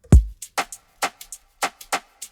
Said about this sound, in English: I added a 2nd shaker with a more chugging feel to add even more movement to this beat